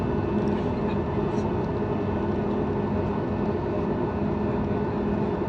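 Cabin sound aboard an Akasa Boeing 737 MAX 8 taxiing at Bengaluru airport in the early morning, a steady low engine drone and rumble that stays even throughout.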